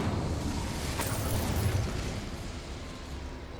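A fire spell, Incendio, cast in Hogwarts Legacy, a loud whooshing burst with a sharp flare near one second, then a rumbling crackle that slowly fades; no talking.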